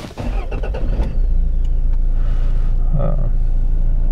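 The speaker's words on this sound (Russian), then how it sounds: "Двигатель здесь заводится кнопкой." Toyota Fortuner diesel engine with a six-speed automatic, push-button started, catching with a brief burst and then settling into a steady, close, low idle rumble.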